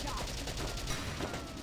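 Dense gunfire crackles through a Valkyria Chronicles battle, a steady rattle of rifle and machine-gun shots running the whole time with game sounds mixed in and no clear gaps.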